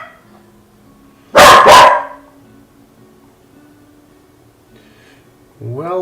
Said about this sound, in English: my dog is fiercely guarding our home